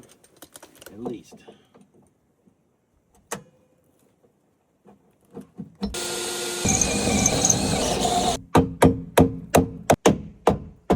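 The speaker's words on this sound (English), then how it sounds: "We're going to drill off the welds and see if it'll pop off of there." A drill bit grinding into the welds on a rat rod pedal bracket, a brief steady whine of a couple of seconds, followed by a series of sharp metallic taps, with scattered clicks and handling noise before it.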